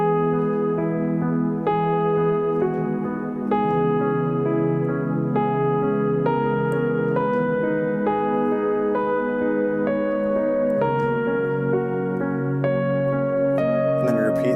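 Keyboard pad block chords for a song, sustained and smooth, changing chords roughly every second or two in a steady flowing progression, played alone without talk.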